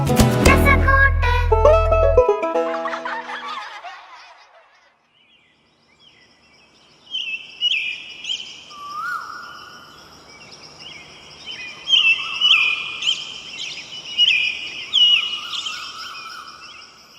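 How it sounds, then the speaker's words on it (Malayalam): Morning birdsong in varied chirps and trills rises after a fading opening musical chord, with several birds calling in overlapping bursts at moderate distance over a faint background. "കിളികളുടെ പാട്ട് കേട്ടില്ലേ?"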